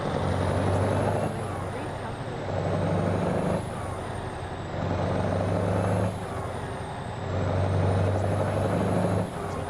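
Truck engine braking with a jake brake, a loud low droning rumble that pulses in long surges, rising and falling several times over steady road noise from inside the cab.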